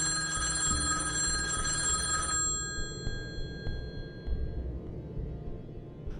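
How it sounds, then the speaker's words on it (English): A telephone rings with a bright, steady electronic trill for about two seconds, then stops, leaving a low room hum and scattered faint clicks. "right around 2 a.m, the phone rang again"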